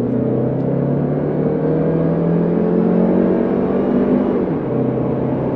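Jetour Dashing 2024 SUV engine pulling hard under acceleration, a steady loud drone with rising tone and a brief dip near the end as the transmission shifts gear, close and continuous with no talk.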